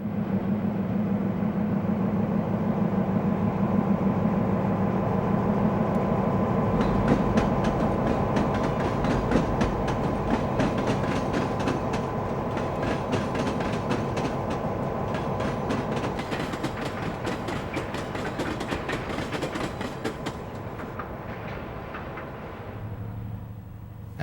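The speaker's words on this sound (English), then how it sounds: "a B&O switcher runs past F Tower" A B&O switcher locomotive runs past F Tower, its diesel rumble building into steady rattling and clattering wheels on the rails, close and loud before easing off at the end.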